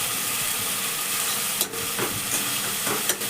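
Ginger, greens and chillies pressed and mashed in a hot wok, a steady sizzle with a few sharp scraping knocks of the utensil against the pan.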